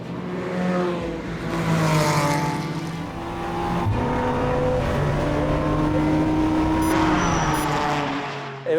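Race cars of mixed classes, from 1.6-litre junior cars up to fast GT3 machines, lap a busy circuit. Engines swell and fade as cars pass at close and middle distance, overlapping one another at moderate loudness with no voices.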